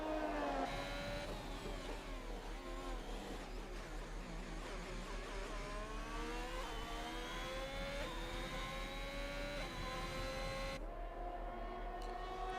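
Racing cars including a McLaren and an Alfa Romeo lapping the Brazil circuit in an Xbox One racing game, their engines whining steadily with rising pitch as they pass, a continuous droning blend of several cars.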